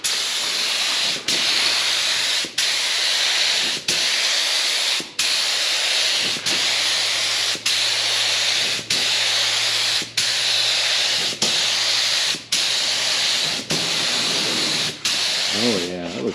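An air spray gun lays primer on a 1995 Mazda Miata in loud, continuous hissing bursts about a second long each, with short regular breaks between passes and a faint voice near the end.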